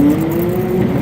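A twin-turbo Nissan GT-R on a drag run, caught as a brief, loud, close engine roar holding a steady high tone for about a second.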